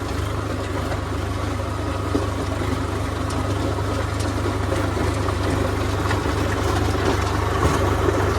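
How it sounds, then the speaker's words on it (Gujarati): A tractor engine with a rotavator fitted with new blades runs steadily at close range, a constant low rumble with no talk over it. "જો હવે ટ્રેક્ટરનો અવાજ"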